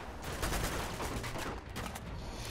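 Rapid gunfire in Uncharted 2: Among Thieves, a dense fusillade of overlapping shots and bursts rolling continuously at moderate loudness with no talk over it.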